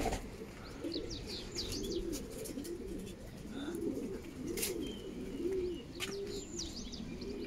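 Pigeons coo and call repeatedly close by while racing birds arrive home after a 290 km race, with scattered chirps and a brief flutter of wings over a steady outdoor hum.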